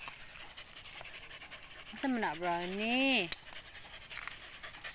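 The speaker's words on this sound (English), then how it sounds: "So, look at our dogs." Pet dogs pant in quick, soft breaths close by. A short whining, whimpering vocalisation rises and falls midway, and a person says a few words quietly.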